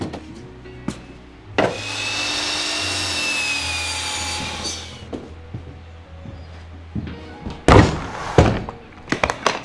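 A wooden board for a custom kayak trolling motor mount is cut with a saw, a loud sustained whining cut of about three seconds, followed by scattered wooden thunks and clatter as the piece is handled.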